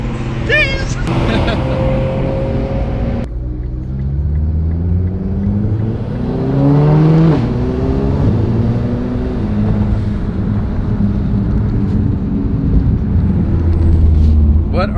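A 750-horsepower Nissan GT-R engine rumbles steadily close by, its pitch climbing and falling through a couple of revs, with people talking and shouting excitedly over it much of the time.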